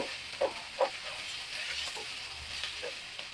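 Potato and carrot pieces being stirred as they fry in a pan, with a soft steady sizzle and a couple of distinct scraping stirs near the start, close and fairly quiet.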